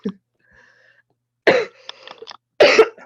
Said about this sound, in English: I'm so sorry if I cough a lot.